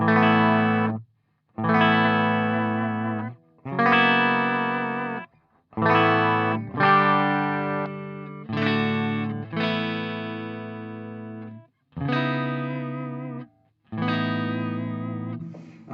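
Clean electric guitar chords through the clean channel of a Garland Tyranos tube amp head, strummed and left to ring, about eight separate phrases with short gaps, bright and full with a touch of shimmer.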